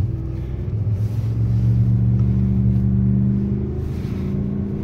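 A two-wheel-drive pickup truck accelerates hard from a standstill in snow, its engine droning in a loud, steady low rumble that holds for several seconds with little change.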